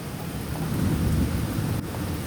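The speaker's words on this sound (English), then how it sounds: "Thunder. I don't know if you guys can hear the thunder." Low rumbling thunder rolls under steady heavy rain on a rainy day, a swelling deep roar that peaks midway and then eases, with continuous hiss of rainfall and no talk.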